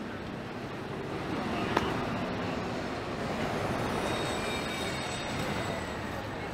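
A Toronto subway train rides along near Union station, a loud steady rumble of wheels and car noise with a faint high squeal and a brief click.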